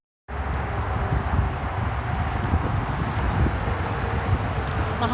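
Steady outdoor wind buffets the microphone on a cold, gusty day, a continuous low rumbling roar that sets in abruptly and holds without pause.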